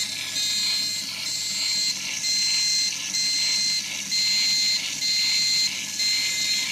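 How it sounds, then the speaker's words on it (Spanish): Temperature alarm buzzer on a refrigeration motor setup beeps loudly in a steady on-off pattern of long tones with short gaps, close and alone. "y la alarma suena."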